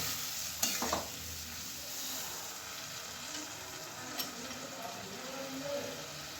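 Ground coriander and cumin with a splash of water sauté in a pan, a soft continuous hiss of frying with one or two faint utensil knocks, fairly quiet and without voices.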